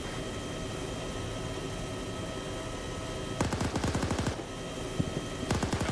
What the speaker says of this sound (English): Shoot it down with your machine gun.